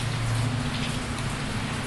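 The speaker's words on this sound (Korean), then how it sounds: "제 목소리가 좀 안 들리죠, 비 소리가." Continuous rain during a Sunday church service in Wake Forest, a steady hiss of drops with a low rumbling undertone, moderately loud and unbroken, no speech.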